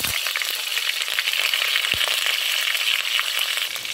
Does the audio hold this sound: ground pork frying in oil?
yes